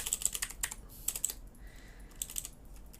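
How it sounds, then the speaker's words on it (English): Keys clack on a computer keyboard in quick irregular bursts of typing, close and fairly soft, with brief pauses between flurries. "so I will type fast foods"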